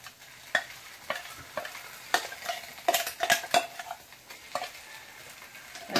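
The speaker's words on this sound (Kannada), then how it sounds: "ಹಾಕಿ ಚೆಂದ ಮಾಡಿ ಫ್ರೈ ಮಾಡಿ" Masala for a fish gravy fries in a pan with a steady sizzle, punctuated by frequent sharp scrapes and clinks of a spatula stirring against the metal, close and fairly loud.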